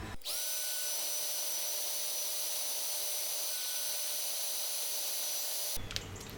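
A hair dryer blowing to dry paint on a fishing lure, a steady, loud whining whoosh that starts abruptly, runs continuously and cuts off near the end, no talk.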